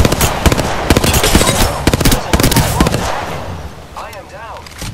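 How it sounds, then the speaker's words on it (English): Rapid gunfire and sharp blasts, including a grenade explosion, in the video game Apex Legends. The bursts are loud and dense at first, then thin out as brief voices come in near the end. "Throw my grenade out"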